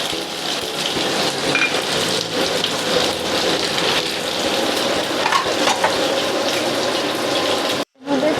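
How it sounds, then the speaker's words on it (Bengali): Sliced onion frying lightly in oil for a prawn-stuffed pointed gourd dorma. A close, steady sizzle with stirring runs throughout, then cuts out briefly near the end. "এরপর পেঁয়াজটা হালকা করে ভেজে নেব।"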